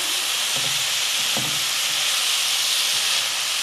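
Tart filling ingredients sautéing together in a pan, a dense, steady steamy sizzle heard up close with a few soft stirring knocks near the start and no talking.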